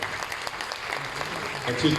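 An audience at a sociopolitical discussion gathering applauds for Ismael Núñez, a soft, continuous patter of hands under a speaker's voice, steady and moderately distant across the short stretch.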